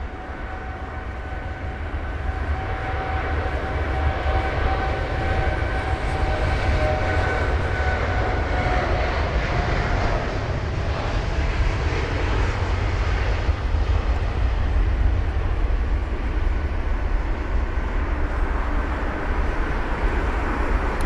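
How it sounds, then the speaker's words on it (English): An Air Canada Boeing 787 Dreamliner departs Heathrow for Montreal in wet, spray-laden conditions, its engines building into a loud, sustained roar that swells after the opening seconds and holds steady for the rest of the stretch. "We've got the Air Canada 7879 Dreamliner off to Montreal"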